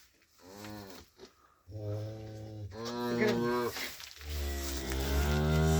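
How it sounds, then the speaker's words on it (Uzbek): A cow that has just calved lows in a cramped cattle shed, several loud, drawn-out moos following one another with brief pauses, with faint stable sounds between them. "Sigirga gap yo'q mana."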